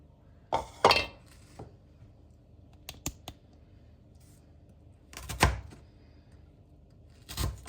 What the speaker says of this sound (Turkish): Bunları bu şekilde hepsini şimdi doğruyorum.